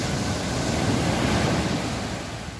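Waves and wind roll in at Cengkrong beach, a loud continuous broadband roar of surf with wind buffeting the microphone, steady throughout with no voices.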